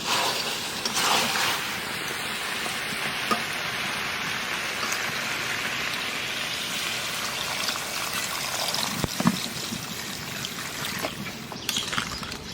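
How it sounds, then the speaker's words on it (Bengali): Water goes into a pot of braised country rooster curry made with ground spices, producing a continuous soft splashing and trickling hiss for several seconds over a quiet cooking background, with no speech. "মাংস কষানো হয়ে গেছে এখানে জল দিয়ে দেবো"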